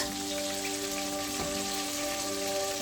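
Chicken pieces for KFC-style crispy fried chicken frying in oil over a low flame, giving a steady, dense sizzle and crackle throughout, with a faint hum underneath and no talking.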